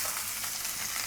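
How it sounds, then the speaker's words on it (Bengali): Chopped onion frying in hot oil for an egg dish makes a steady, bright sizzle that stays close and even for a second, with no voices over it. "প্রথমে পেঁয়াজ কুচি দিয়ে দিচ্ছি,"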